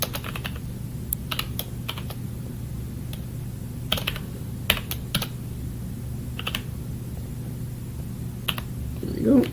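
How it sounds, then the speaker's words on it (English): A password is tapped out on a computer keyboard in scattered quick clusters of clicks over a steady low hum, fairly quiet, with a faint sound rising at the end. "So let's type this in real quick."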